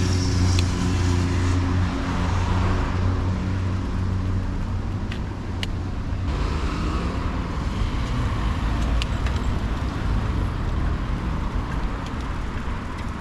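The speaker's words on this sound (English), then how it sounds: "So another major road here, 4 lanes of traffic" Traffic roars steadily along a four-lane major road in Tilburg, with vehicles passing close and loud in a continuous wash of engine and tire noise, no talk.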